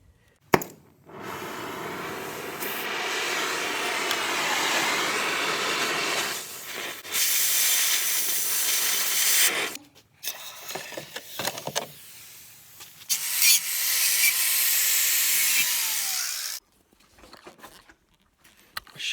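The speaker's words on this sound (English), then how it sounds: "cut the notches out and do all that stuff the most sketchy way possible with the chop saw" A chop saw cutting notches in steel for a 2x72 belt grinder build: loud, sustained harsh cutting noise in several long passes with short pauses between, and a whining tone as the blade spins down.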